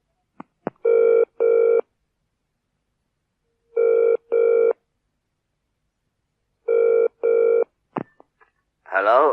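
A few quick dialing clicks, then a telephone rings in three paired bursts separated by pauses, before a voice answers at the end.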